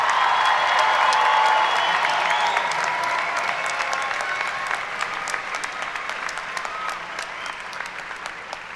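A university commencement crowd applauds its graduates, a thick, sustained round of clapping that starts full and slowly thins and softens toward the end.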